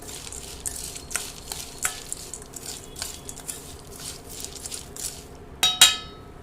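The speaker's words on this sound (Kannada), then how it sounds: "ನಾನು ಇದಕ್ಕೀಗ ಹುರ್ಗಡ್ಲೆ ಹಾಕೋತಾ ಇದ್ದೀನಿ ನೀಟಾಗಿ ಫ್ರೈ ಮಾಡ್ಕೊಳ್ಳಿ" Roasted gram frying in oil in a pan for a poha mixture, with a sizzle under repeated scraping stir strokes and a sharper clatter near the end, close and moderately loud, no voices.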